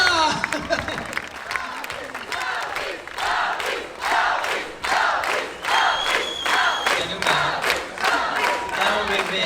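Audience at a convention cosplay show claps and cheers in steady bursts, with crowd noise and whoops throughout, loud and close, with voices mixed in.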